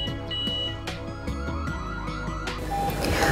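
A G90B alarm system siren gives a run of electronic beeps and tones, clear and close, ending in a rising noisy burst; no speech.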